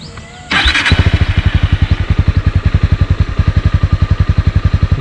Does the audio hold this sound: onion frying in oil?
no